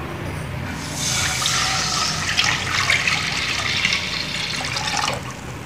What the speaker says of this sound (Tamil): pan சூடானதும் தண்ணி போட்டுக்கோங்க.